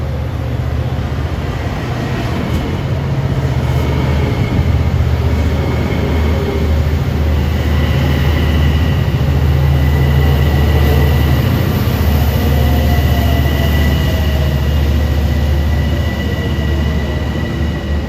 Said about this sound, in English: About to get blanked out by a Huntington-bound train